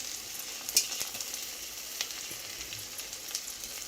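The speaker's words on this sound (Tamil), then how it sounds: "வணங்கினதுக்கு அப்புறமா இந்த நம்ம எடுத்து வச்ச கருவாடை போட்டுடலாம்." Dried fish fries with softened onions in oil for a crispy karuvadu poriyal, a close steady sizzle peppered with sharp pops and crackles as it is stirred.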